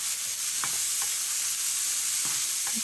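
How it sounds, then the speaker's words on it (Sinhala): Curry leaves fry and are stirred in a pan with vegetables and rice noodles, producing a steady hissing sizzle with a few light utensil taps scattered through; moderately quiet, no talking. "දැන් මම කරපිංචා කොළ ටිකක් මේකට එකතු කරලා හොඳින් කලවම් කරගන්නවා"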